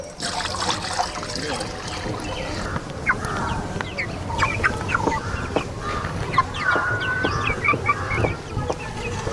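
Chickens in a household poultry coop cluck and squawk in short bursts over a busy background with a trickling, watery texture; a voice is faintly present.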